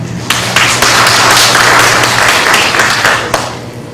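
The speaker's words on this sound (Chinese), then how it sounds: "大家热烈掌声欢迎小文" A seminar audience gives loud, warm applause to welcome a speaker, dense steady clapping from a full room, with a few sharp individual claps standing out and no voices over it.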